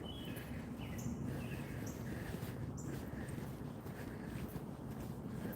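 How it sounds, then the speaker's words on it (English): Small birds chirp in scattered short calls on a quiet residential Chicago street on a December morning, faint and intermittent above steady wind rumble on the microphone. "You hear the birds chirping."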